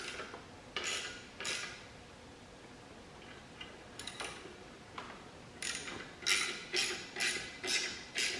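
Bolts tightened with a ratchet while reinstalling the clutch on an LS XR3135 tractor: short bursts of ratcheting clicks, first a few spaced pulls, then a quicker run of five or six strokes near the end, close and moderately quiet.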